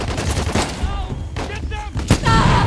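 Gunfire cracks out during a firefight in Uncharted: The Lost Legacy, several sharp shots and bursts mixed with game effects, a loud report near the end standing out above the clutter.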